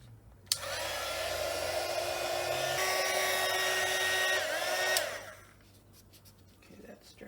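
Handheld dryer blowing on freshly applied gesso, switching on with a click, then a steady loud whirring blast with a high whine for about four and a half seconds before cutting off into quiet room tone.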